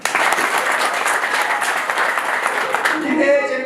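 Wedding guests break into sustained, dense applause from a large crowd, continuous and fairly loud throughout with a voice faintly audible near the end.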